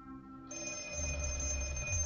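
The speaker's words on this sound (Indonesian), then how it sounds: "dibangunkan oleh telepon berdering" A telephone rings with a steady electronic bell tone that starts about half a second in and holds unbroken, heard alone with no voices.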